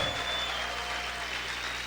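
A brief stretch of continuous clapping from a church congregation at an evangelical worship service, even and fairly loud from start to finish, with a thin sustained tone underneath.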